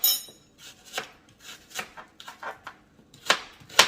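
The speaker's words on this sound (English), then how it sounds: "cut your onions, chop it" A kitchen knife chops onions on a board in a quick, uneven run of crisp, close taps, with a couple of sharper knocks toward the end.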